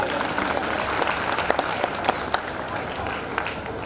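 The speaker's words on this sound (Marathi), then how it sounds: "जोरात टाळ्या होऊ द्या एकदा." An audience applauds loudly at a flag-identification quiz during the IKS Gyanmahotsav 2025 festival. The clapping is dense and steady throughout, with a few sharper claps standing out and faint voices underneath.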